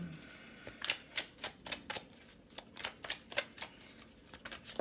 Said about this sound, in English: Let's get one more card from this deck for my